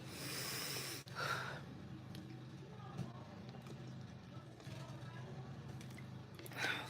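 A couple of short, harsh coughs close by, one early and one at the very end, over a low steady background hum.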